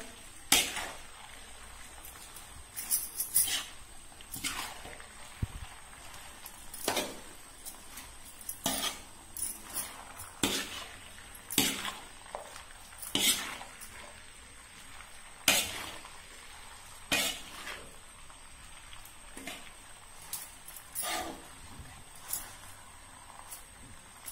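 Spoon stirring salt through a veg Manchurian mixture in a bowl, producing a steady series of close, sharp clinks and scrapes at an irregular pace over a faint background hiss.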